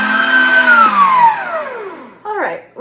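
A stand mixer kneads Amish white bread dough with a loud motor whine that slowly drops in pitch as it winds down, followed by a couple of short clattering sounds near the end.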